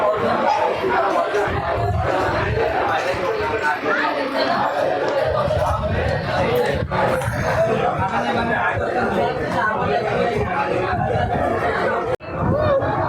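The packed dining hall at Hotel Mayur Garden in Dadar hums with loud, continuous chatter from full tables, overlapping voices and occasional laughter, with a brief lull near the end.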